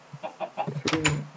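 Chicken in Minecraft clucking close up, a quick run of short clucks that ends in a louder squawk, heard alone without talking.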